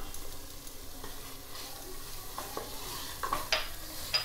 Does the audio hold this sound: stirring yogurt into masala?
yes